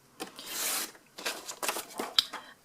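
Scissors cutting through grid paper along a measured mark for a wreath template, a close, dry rustling snip and rasp in a few uneven strokes, with no talking.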